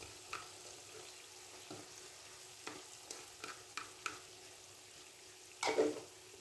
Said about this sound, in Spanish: Lo iré pochando a fuego medio. Ya he pochado un poco la cebolla y el ajo,